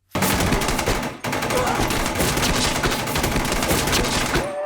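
Sustained, dense automatic gunfire from the final raid of the film The Kingdom, loud and close, with several weapons firing at once in rapid overlapping bursts and only a brief break near the start.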